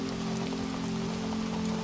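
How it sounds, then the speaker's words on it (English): Steady rain falls in the Amazon jungle of the survival game Green Hell, an even, continuous patter over a low background hum, with no talking. "beautiful rain"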